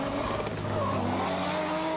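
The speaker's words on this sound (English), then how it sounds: "Keeps the car hanging out there on the rev limiter." A drift car engine held on the rev limiter at a Drift Kings Asia Cup event, a steady buzzing roar with tire noise, close and continuous.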